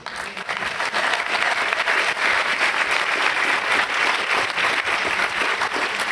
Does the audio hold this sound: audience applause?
yes